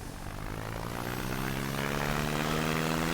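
A propeller airplane engine in the SimplePlanes flight game throttles up, a steady droning hum that grows gradually louder and stays continuous throughout, with no talking.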